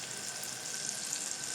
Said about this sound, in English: in batches brown the meat